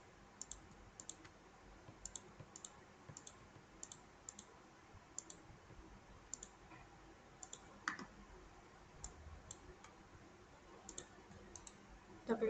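Sharp, quiet computer mouse clicks come one after another in an irregular rhythm over a faint hum, with soft movement between them and no talking.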